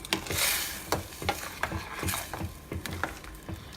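A spoon stirs brinjal pulav rice boiling in a pot, giving several close scraping strokes over a steady bubbling sizzle.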